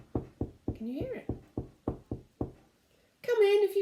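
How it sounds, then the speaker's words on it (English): Gentle knocking on a door, a row of about nine evenly paced, fairly close knocks, with a voice briefly sounding partway through and a person talking at the end. "There's someone knocking at the door."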